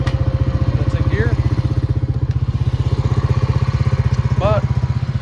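A rebuilt Honda Rancher 350 ATV engine idles slightly high, a steady close chugging putter with even firing pulses throughout, with a couple of brief faint background voices.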